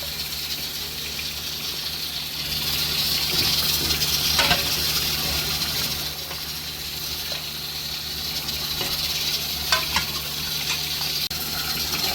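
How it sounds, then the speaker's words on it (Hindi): Rice with oil, onion and tomato is stirred in a pot, giving a steady wet sizzling hiss with intermittent scraping and clinks from the spoon, and a low hum running underneath. "यहाँ पे चावल बन रहे हैं, अच्छी तरह हम इसको मिक्स कर रहे हैं"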